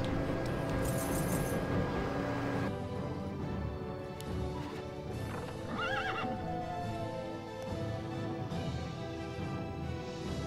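A horse neighs in the strategy game Warcraft 3, a clear whinny rising over game music and clip-clop hoofbeats, with other in-game effects scattered through the mix.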